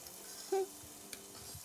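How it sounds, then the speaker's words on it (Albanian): Pasta being stirred in a frying pan while pappardelle with Italian sausage and red peppers cooks, a soft low scrape with one brief louder clink of utensil on pan and a faint sizzle underneath. "Ndërkohë, përzim pastat, që mos ta ngjisin në fund"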